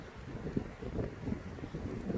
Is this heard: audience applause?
no